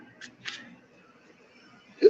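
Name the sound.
hiccup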